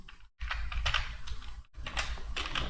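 Rapid keystrokes on a computer keyboard while entering a payment voucher heading in Tally Prime accounting software, a steady close clatter of clicks broken by two brief pauses, with no talking.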